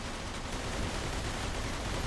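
Dense, continuous gunfire from a shootout in the video game Mafia 2 rattles without pause, loud and close for the whole stretch.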